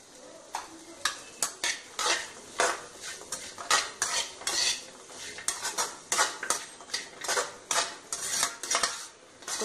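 Metal utensil stirring and scraping idli pieces frying with salt and sauce in a pan, a steady run of clinks and scrapes over a soft sizzle, close and fairly loud, with no talking.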